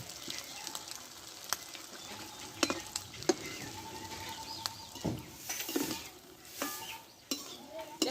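Cauliflower fritters fry in small batches in hot oil, a quiet steady sizzle with occasional clinks and scraping of a utensil in the pan.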